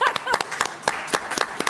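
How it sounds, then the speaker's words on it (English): A small crowd claps in short, uneven bursts at an outdoor civic gathering before the mayor's remarks, the sharp hand strikes close and irregular with a voice briefly audible at the start. "We can clap for that."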